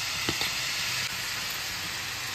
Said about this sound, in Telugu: ఇప్పుడు ఈ పచ్చిమిర్చి వేస్తున్నాను